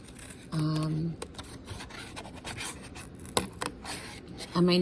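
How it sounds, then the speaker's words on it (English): Scissors cutting out a cardboard design for a collagraph plate, producing scratchy snips and rubbing scrapes at close range, interrupted by tonal bursts near the start and end. "now I'm gonna be cutting out my design"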